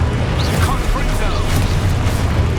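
Confringo spell cast in the video game Hogwarts Legacy, a dense, sustained rumbling blast with crackling debris, loud and continuous beneath shouted spell voices.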